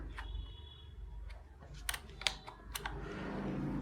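Computer keyboard keys pressed for a Ctrl+Enter shortcut while working in Photoshop, a series of crisp clacks with a few sharper, louder strikes in the middle, close up and with no talk.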